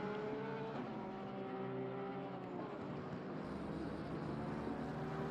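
Race cars at Laguna Seca in the racing game Assetto Corsa Competizione, engines droning and whining steadily at high revs, several cars blending in a continuous close roar with shifting pitch and no talk.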